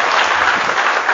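A church congregation applauding: a dense, loud wash of clapping fills the brief moment with no gaps.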